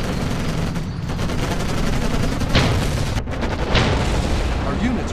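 Video game battle in Codename Panzers: Cold War, with dense, continuous gunfire and booming explosions rumbling loudly throughout and a few sharper bursts standing out, while voices sound amid the combat.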